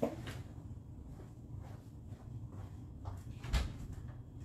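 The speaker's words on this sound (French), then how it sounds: "je vais aller ouvrir ma porte" A house door is opened indoors, with a soft clunk near the start and a sharper knock or latch sound later, all quiet and fairly close against a low background hum.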